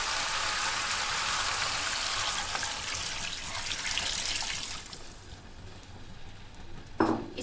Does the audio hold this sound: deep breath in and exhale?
no